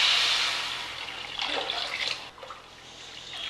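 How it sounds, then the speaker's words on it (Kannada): Water is poured into a pan with sugar to make syrup for rasgulla, a brief splashing pour that rises and then tapers off, quiet and heard alone. "1-2 ಕಪ್ಪಷ್ಟು ನೀರು ಹಾಕೋಬೇಕು"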